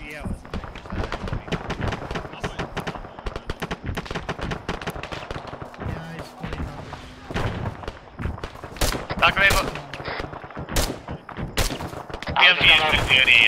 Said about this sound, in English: There is an MG pinning us down.